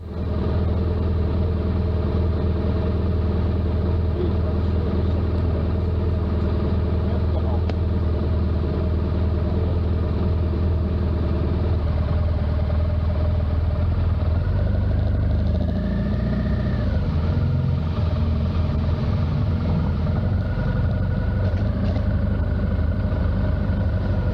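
A touring motorcycle running on a ride toward the Black Forest in Germany, its engine holding a steady low drone throughout with a brief rising rev partway through, and a voice talking over it.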